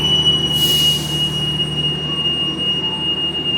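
An Indonesian Pangrango passenger train pulls away toward Bogor Paledang, a steady rumble of rolling carriages with a sustained high metallic wheel squeal running throughout and a brief hiss burst near the start.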